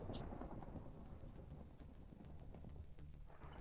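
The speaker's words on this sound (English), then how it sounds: "Yeah, thunder is loud." Minecraft game thunder rolls as a low, continuous rumble during a lightning storm, faint and sustained for several seconds with a rain-like hiss on top.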